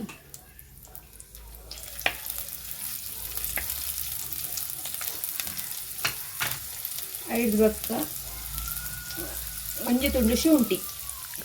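Onion frying in hot coconut oil for Mangalore-style sardine pulimunchi, a steady close sizzle and hiss with a few scraping stirs and louder bursts near the middle and end.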